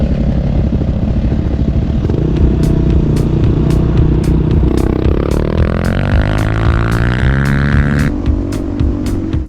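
A Suzuki DRZ 400 dual-sport motorcycle is ridden out of desert canyons toward Old Puertecitos Road near San Felipe. The engine is loud and close throughout, with a steady rumble that revs up into a rising whine partway through, plus light rhythmic clatter.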